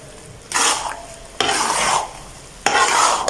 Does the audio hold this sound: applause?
no